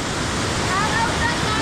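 A waterfall and river at Puning Cave in Bulacan pour with a loud, steady broadband rush of falling water, close and unbroken throughout.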